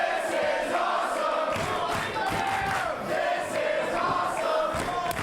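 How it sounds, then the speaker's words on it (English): Wrestling crowd at a Greektown tag team match cheering and chanting, a loud, sustained roar with rising and falling shouts and voices all through. "Crowd showing their appreciation of this great tag team action."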